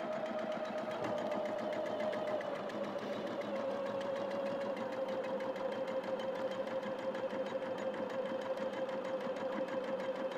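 An embroidery machine stitching, a steady fast mechanical whirr with a rapid even needle rhythm and a sustained hum, continuous and fairly close throughout.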